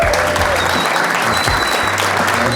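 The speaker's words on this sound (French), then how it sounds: "donc j'aimerais qu'on lui fasse un tonnerre d'applaudissements" A live audience gives sustained, dense applause welcoming the founder of Hôtel Style at a gathering in Paris, loud and steady throughout.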